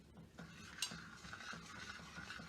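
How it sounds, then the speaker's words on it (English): A spoon stirs potato leek soup in a pot at a gentle simmer, giving soft, faint scraping and clinking in a steady rhythm, heard alone without talking. "I'm going to start adding this to my soup. And I'm going to stir."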